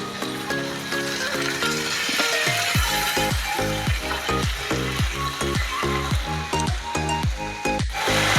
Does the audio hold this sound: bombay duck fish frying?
yes